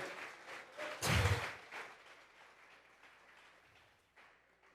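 A congregation gives a brief burst of clapping during a Sunday church service. It swells suddenly, then fades into a quieter room with faint murmurs.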